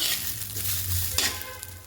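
Cluster beans (gavar) frying in a little oil give a steady, close sizzle, broken by a short scrape or stir near the end, with no talking.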